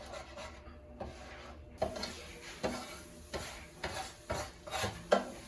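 Scrambled eggs and brown rice stirred in a pan for a low-sodium shrimp and broccoli fried rice, with repeated scraping strokes at a steady, moderate rhythm over a soft sizzle, close by.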